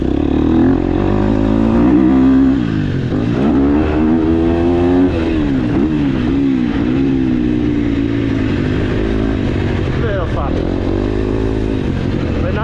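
A 250cc four-stroke motocross bike, KTM 250SXF or Yamaha YZ250F, revs and pulls hard while being ridden, its engine note rising and falling in loud, continuous sweeps.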